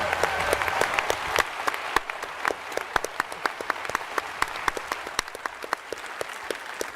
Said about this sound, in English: So everyone give Ian a round of applause.